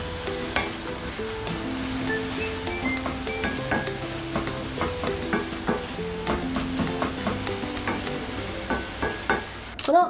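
Onions and carrots sizzle and hiss steadily in a pan over low heat, with occasional scraping stirs and light clinks, close up and without talk.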